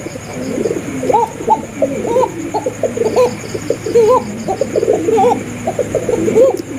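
Basiraj pigeons coo repeatedly in soft, rolling phrases, close by, with a faint steady hum underneath and no talking.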